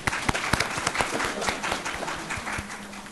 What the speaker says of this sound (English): Can y'all give a round of applause for this?